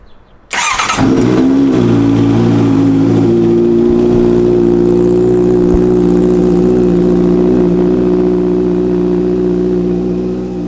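A Honda CBR650F motorcycle engine cranks and catches, then settles into a steady, loud, close idle that runs continuously without any talking.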